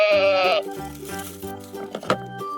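A sheep farm animal toy bleats once, loud and close, then gives a run of quieter electronic beeps and tones.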